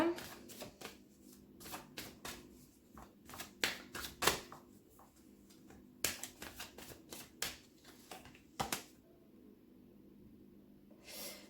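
Tarot cards are shuffled and laid out by hand in a quiet room, giving repeated soft riffling bursts and light card slaps in uneven clusters, close up and fairly faint.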